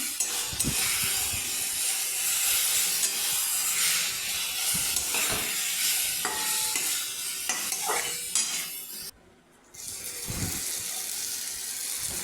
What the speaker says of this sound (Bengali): ভাজা ভাজা করে নিচ্ছি সমানে জলটাকে টানিয়ে নিচ্ছি